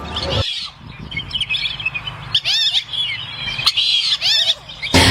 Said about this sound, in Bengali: এমনি সবাই বলে এটারে বালি হাঁস।